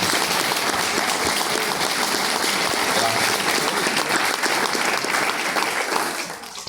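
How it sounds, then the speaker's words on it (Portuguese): Loud, dense applause from a church congregation celebrating a pastor's unanimous election, a continuous roar of clapping close by that fades in its final moment. "Vamos aplaudir o Senhor"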